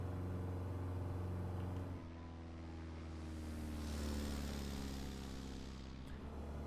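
Piper PA28R Arrow piston engine in Microsoft Flight Simulator, a steady droning propeller hum heard from inside the cockpit, dipping briefly and then swelling as power builds, quiet but continuous.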